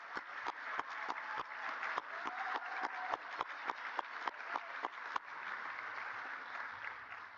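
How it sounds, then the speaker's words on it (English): Audience at a university commencement ceremony applauds the graduating doctoral students, scattered sharp individual claps standing out over a continuous wash of clapping, heard from some distance and fairly faint. "So how about an applause for them?"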